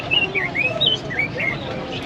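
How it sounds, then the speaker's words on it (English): Caged pet birds for sale at a market in Sapa, Vietnam chirp in quick high tweets, several short calls in a row, close by over a busy background murmur. "Lots of birds in cages here."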